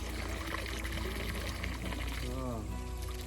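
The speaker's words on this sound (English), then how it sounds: "Let's drain the water." Water being drained during a ring well and house construction project, a steady close pour and trickle with voices talking over it.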